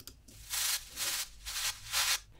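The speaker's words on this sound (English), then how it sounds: "Pretty much white noise is this kind of sound." Four bursts of hissing noise swell and fade in a regular rhythm, bright and airy, with nothing else around them.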